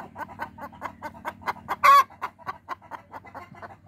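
Laying hens cluck in a steady run of short, rhythmic calls, close and continuous, broken once by a single louder, drawn-out squawk midway.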